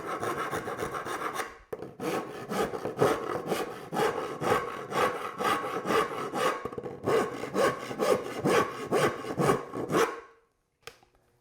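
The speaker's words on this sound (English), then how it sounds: "I better take a little bit of material off of the tenon right here." Steady back-and-forth rasping of a hand tool shaving wood from a tenon on a solid wood door, close and continuous for about ten seconds, with a brief pause early on and a short knock near the end.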